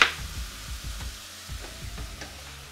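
An egg fries in a pan seasoned with cayenne pepper, a gentle sizzle broken by a rapid series of light knocks and scrapes, moderately quiet and near, with no speech.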